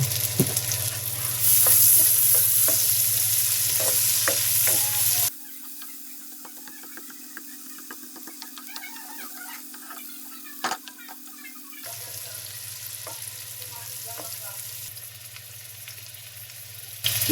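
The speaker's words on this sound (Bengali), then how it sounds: "পেঁয়াজ দিয়েছি, পেঁয়াজ ভেজে নেব।" Onions fry in a pan for a Bengali prawn curry, a sizzle with stirring clicks that drops to a quieter stretch midway, then returns just as loud.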